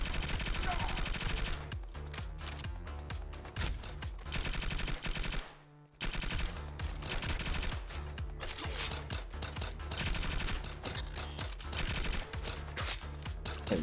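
Sustained rapid gunfire in the Cybercorp video game in an open arena, dense and continuous automatic bursts with one brief pause near the middle, loud and close throughout.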